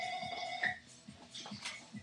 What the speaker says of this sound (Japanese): なんか電話かかってきた